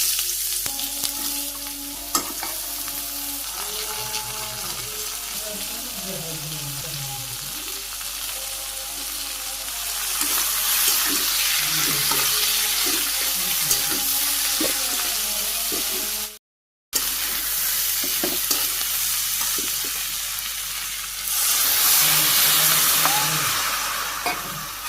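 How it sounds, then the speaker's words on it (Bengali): Onions and vegetables frying in oil tempered with cumin seeds in a Bangladeshi home kitchen, a loud continuous sizzle with stirring scrapes, brief bursts of louder hissing, and a momentary dropout partway through; no speech. "তেলে জিরা ফোড়ন দিয়ে পেঁয়াজ দিয়ে ভাজি করতেছি"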